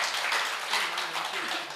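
Faint, steady clapping from an audience at a Hindi poetry recital, a soft wash of many hands with a voice murmuring low beneath it.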